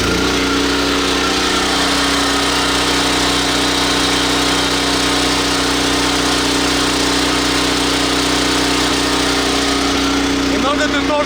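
A portable generator on a solar security tower runs close and steady, giving a continuous droning engine hum with even vibration throughout and no pauses.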